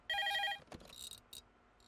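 A telephone rings in a comedy film scene, a loud electronic bell burst with sharp tones, followed by fainter, briefer ring fragments.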